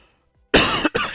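Two quick, harsh coughs close to the microphone, one right after the other, following near silence.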